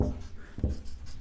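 Quick strokes of writing on a board, a short run of scratchy marks with sharp taps at the start of strokes, close and moderately loud, with no talk over it.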